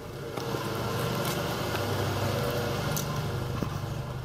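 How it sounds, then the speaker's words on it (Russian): A 2004–2013 Audi/VW/Skoda/Seat petrol engine with 142,191 km, no warning light and no fault codes, idling smoothly: a steady, even hum with low rhythmic pulsing, close and alone, with no voices. "Двигатель работает ровно."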